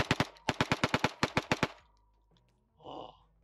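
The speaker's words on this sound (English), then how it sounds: "So what's a gun video without a random Glock mag dump?" A Glock pistol fitted with a binary trigger, emptied in a rapid magazine dump: about fourteen sharp, loud shots in quick bursts with a brief gap, then silence and a short breathy exhale at the end.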